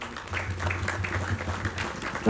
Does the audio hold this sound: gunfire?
no